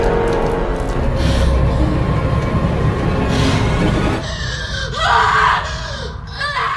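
In a film scene, a woman named Grace screams hysterically and at length after drinking a ritual potion, a loud, continuous, shrill wailing that breaks into gasping, choked cries near the end.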